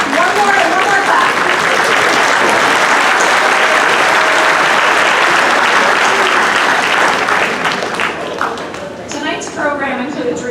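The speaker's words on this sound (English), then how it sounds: "one more clap" An audience claps steadily and loudly through a 2019 high school graduation ceremony, a dense wash of applause from a large crowd that thins slightly toward the end.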